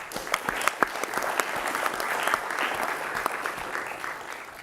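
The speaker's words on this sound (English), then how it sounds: "So welcome a round of applause for the speakers." Conference audience at an ECB research conference gives a brief, moderate round of applause for the speakers, with distinct individual claps over the steady patter.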